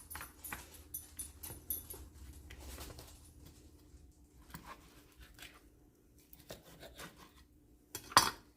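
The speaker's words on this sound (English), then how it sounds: "Oh, here come the dogs." Dogs move about near a kitchen stove where green chili simmers, giving faint scattered sounds and a soft whimper amid light clinks of dishes and cutlery, with one sharper clatter near the end.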